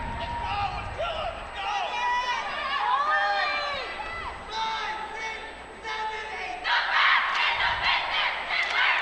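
A high school competitive cheerleading squad at a state meet shouts a cheer in loud unison, rhythmic chanted calls filling a gym, with crowd noise and a louder roar near the end.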